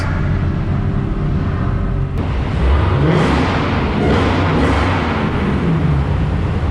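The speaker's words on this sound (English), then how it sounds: "Do some revs." A Dodge Hellcat engine revs in a loud, close street setting, its rumble swelling in a few surges over steady traffic-like noise, with no talk heard.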